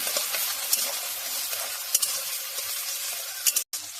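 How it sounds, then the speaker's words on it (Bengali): A spatula stirs chopped onion, tomato and green chili frying in hot oil, giving a continuous close sizzle with light scraping strokes throughout. "গরম হয়ে গেছে তেলটা আমি কুচানো পেঁয়াজ কুচি টমেটো কুচি কাঁচা লঙ্কা কুচি দিয়ে একটু খুন্তির সাহায্যে মেরে নেব"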